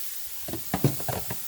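Mushrooms and vegetables, including pumpkin, capsicum and kale, frying in a pan, with a soft sizzle under a few quick clattering stirs and taps, close and moderately loud, without speech.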